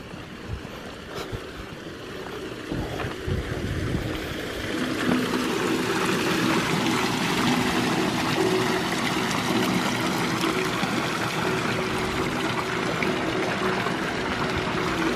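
Water flows steadily in a stream, a continuous rushing wash that grows fuller after the first few seconds and stays close and even to the end.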